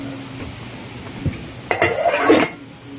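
A metal lid clatters onto a pot of red and white rice cooking on the stove, two sharp clanks with a short rattle as it settles, close and alone.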